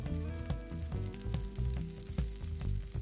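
Crumbled veggie ground round and taco seasoning fry in a pan with a steady close sizzle, with faint stirring and clinks over soft background music.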